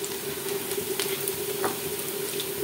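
Ginger-garlic paste frying with onions in a pan, a steady close sizzle with a few light scrapes of stirring, no talk.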